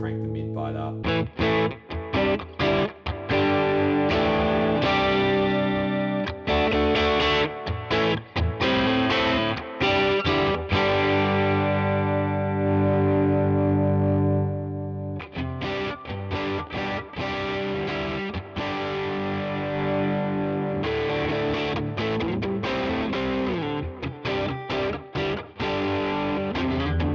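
Electric guitar played through a Neural DSP Tone King amp plugin with the mids cranked for a crunchy, AC30-like drive: loud, continuous distorted chords and riffs with a brief pause midway, no talking over it.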